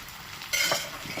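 Food being mixed in a frying pan with a brief scraping stir over a soft, steady sizzle, close by and without voices.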